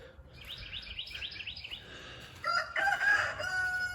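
A rooster crows on a farm, its repeated calls fairly close, with other birds chirping and tweeting around it and a brighter burst of bird calls later.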